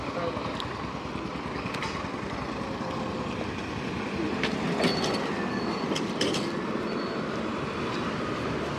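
A train at Mangalore railway station rumbles steadily with rolling wheel noise and occasional faint squeals and clanks, heard from nearby amid outdoor ambience, with a voice talking faintly underneath.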